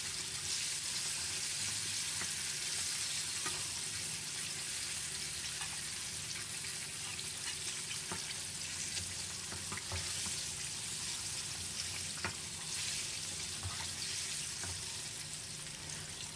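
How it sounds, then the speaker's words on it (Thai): Chicken pieces deep-frying in hot oil make a continuous, dense bubbling hiss with occasional small crackles. It stays steady and fairly close throughout, with no talking. "ก็นำลงมาทอดได้เลยครับ"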